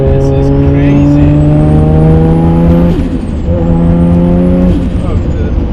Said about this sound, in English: probably the fastest spooling RB26 I've ever been into